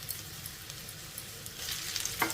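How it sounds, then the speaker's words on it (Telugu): Spices with curry leaves, coriander powder, pepper and salt fry in a pan over a medium flame, giving a quiet continuous sizzle that swells toward the end with a brief stir. "ఇదంతా మనం మీడియం ఫ్లేమ్లోనే ఫ్రై చేసుకోవాలి"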